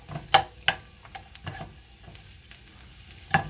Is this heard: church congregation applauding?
no